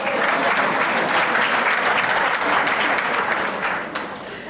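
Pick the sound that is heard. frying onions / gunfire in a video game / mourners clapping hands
mourners clapping hands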